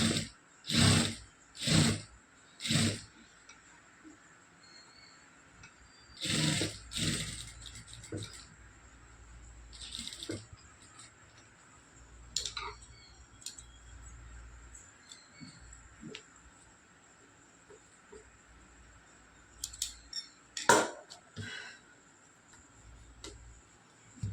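Sewing machine stitching cloth piping, several short bursts of rapid mechanical whirring and ticking separated by quiet pauses, close and fairly faint.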